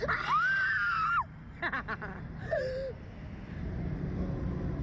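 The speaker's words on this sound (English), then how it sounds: "Should I scream for a dramatic effect?" A person on an amusement ride gives one long, loud, sustained scream, followed by a few shorter breathy cries and laughter, with a steady wind-like rush underneath.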